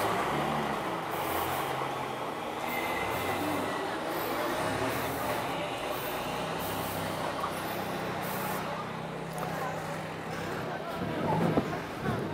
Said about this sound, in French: désolé pour le bruit à cause du bus